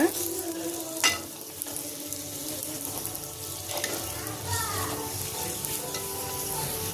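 Pooris made with mint juice dough frying in hot oil, a steady close sizzle with bursts of bubbling as the dough puffs, with faint clinks from the pan.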